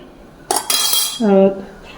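A pressure cooker lid of a moong dal khichdi pot is handled and set in place, giving a few bright metallic clanks and a ringing scrape that settles into a short resonant hum, close and loud.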